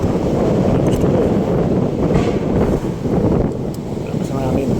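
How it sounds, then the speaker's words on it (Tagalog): Strong wind gusts across the microphone on a seaside reclamation area in Pasay, roaring loud and continuous, with a low rumble throughout and brief faint sounds on top. "Lakas ang hangin."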